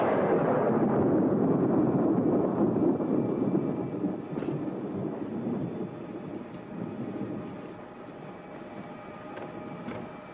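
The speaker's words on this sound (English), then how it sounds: "Well, another stormy weekend." Storm thunder rolls as a long, loud rumble that slowly fades and thins over about ten seconds, with no voices.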